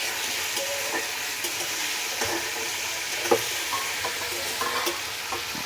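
Fenugreek greens and potatoes with turmeric are stirred in a frying pan, a soft steady sizzle broken by light scraping knocks of the spoon at irregular intervals.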